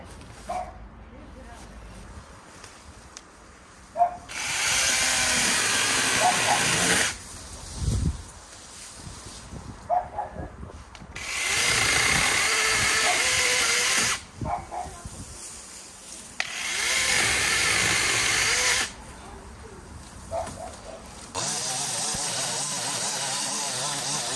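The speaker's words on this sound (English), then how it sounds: "let's go get the little mini chainsaw and get these down" A small chainsaw cutting branches whines loudly in repeated bursts of a few seconds, cutting and pausing, with rustling and a few spoken words in the gaps.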